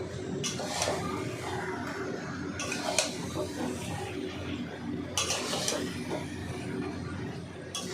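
Mutton is stir-fried in a pot during slow cooking, with a low bubbling sizzle under repeated clanks and scrapes of a spoon against the pot, close and without voices.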